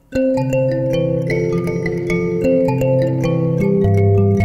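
Plucked mbira dzavadzimu tines ring out in a continuous interlocking pattern, bright buzzing notes over a deeper repeating bass line, played solo.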